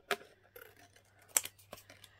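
A few crisp scissor snips cut through paper for a haunted mansion journal tuck. The snips are quiet, close and irregularly spaced, with no voices.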